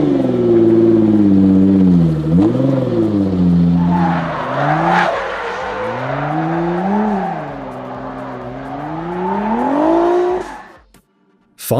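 A Koenigsegg Regera hypercar with a five-litre twin-turbo V8 revs and accelerates loudly up close, its engine pitch rising, dipping and climbing again through several sweeps before cutting off abruptly near the end.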